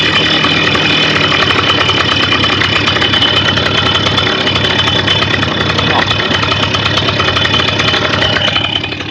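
A Simson S51 moped engine idles loud and close with a rapid, steady two-stroke putter, holding an even speed for several seconds before easing slightly at the very end.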